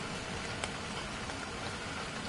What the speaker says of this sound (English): it's raining again on Ragnarok